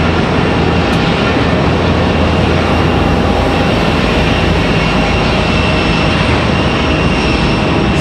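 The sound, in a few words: Swoop airliner departing past the terminal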